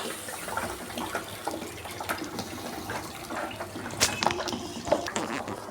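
Water is poured into a pan of fried spices and potatoes set to boil, a splashing, gurgling stream with scattered clinks, fairly close and continuous.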